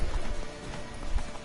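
Hooves of a horse galloping in Witcher 3, a quick rhythmic clip-clop thudding steadily through a short stretch, moderately loud over faint background sound, with no voices.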